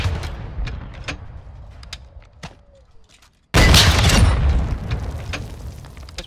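Rocket explosions and gunfire sound in the video game Modern Warfare 2, with repeated booming blasts and cracks, then a sudden loud roaring burst that rumbles on and fades slowly.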